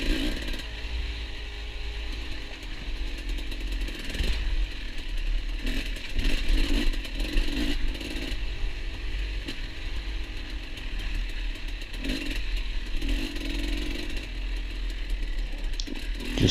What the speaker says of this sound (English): Luckily I had enough momentum to just bump start it and get it back going again.